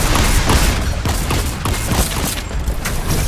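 Rapid gunfire in the video game Fortnite, a dense, steady clatter of overlapping shots that stays loud and close for the whole stretch with no clear pauses.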